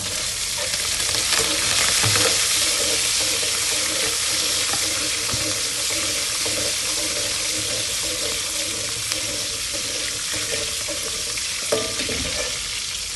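Green chilies frying in a pan for goat blood fry: a loud continuous hiss and sizzle of hot oil runs unbroken throughout, with faint scattered clicks and no talking.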